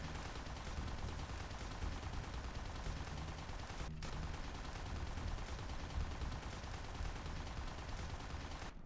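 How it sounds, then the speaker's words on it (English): Machine gun fire in War Thunder's Great War event, a dense, continuous loud rattle of rapid shots sustained throughout, with one brief break partway, no voices. "Keep machine gunning him forever"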